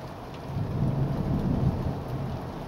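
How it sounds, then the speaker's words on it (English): Distant thunder rolls low and long beneath steady rainfall, a soft continuous rumble with no voices. "And maybe you can hear the thunder a bit."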